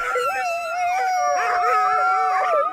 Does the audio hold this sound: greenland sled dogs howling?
yes